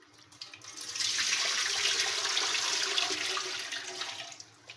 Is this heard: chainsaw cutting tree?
no